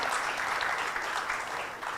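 A conference audience at an inaugural session applauds, dense steady clapping filling the whole stretch at even loudness, tapering slightly at the very end.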